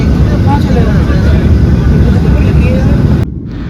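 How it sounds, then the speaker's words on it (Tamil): Airliner taking off on an evening flight to Delhi, a loud steady engine roar heard from inside the cabin that cuts off abruptly near the end. "டேக் ஆஃப்ங்க கரெக்டாக 9:30."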